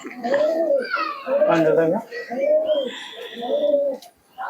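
Close, repeated cooing from a pair of Akash Pukuri Fatka pigeons, four or five swelling, rolling coos in steady succession with brief gaps, ending in a short quiet.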